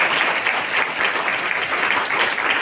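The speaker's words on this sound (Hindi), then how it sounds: "ताली बजाकर प्रभु को धन्यवाद करें।" Congregation at a preaching and healing prayer service in Faridabad claps steadily to thank the Lord, a dense, even wash of many hands filling the room throughout, no voices standing out.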